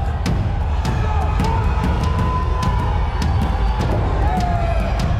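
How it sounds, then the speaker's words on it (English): A crowd at an MMA fight event roars steadily, with scattered thumps and cheers rising through the din while a voice talks over it. "the crowd anxiously anticipates the result of this amazing fight"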